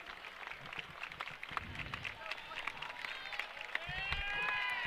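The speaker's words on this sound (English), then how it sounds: "As the applause starts to come in." Crowd at a high school basketball championship game applauding and cheering as time expires, a broad wash of clapping that grows louder toward the end, with an announcer talking over it.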